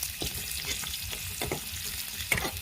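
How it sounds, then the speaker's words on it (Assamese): Onions browning in a pan with cinnamon powder, a steady broadband sizzle broken by a few sharp scrapes and clicks of a stirring spoon, close and fairly quiet, no voices. "পিঁয়াজখিনি অলপ ব্ৰাউন কালাৰৰ হোৱালৈকে ভাজি থাকিম"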